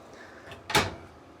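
A slide-out pantry drawer in a caravan kitchen rolls open with one quick, close thump and rattle, alone against a quiet room.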